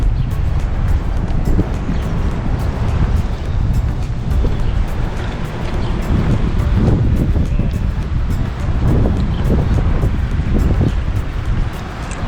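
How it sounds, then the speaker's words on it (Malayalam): Strong gusty wind buffeting the microphone near Niagara Falls, a loud low rumbling roar that swells and surges continuously with no clear speech. "അത്യാവശ്യം നല്ല കാറ്റുണ്ട് ഇന്ന്."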